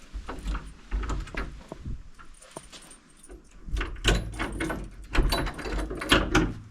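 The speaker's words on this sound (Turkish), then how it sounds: "Şimdi kapıyı açıyorlar." An old door being opened produces rattling, jangling metal and creaking knocks in irregular bursts, close and fairly loud with no talking.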